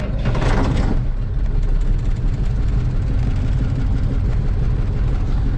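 An Ural logging truck fitted with a MAZ engine, heard on a snowy working day, gives a deep diesel rumble that holds steady and close after a brief rougher burst at the very start.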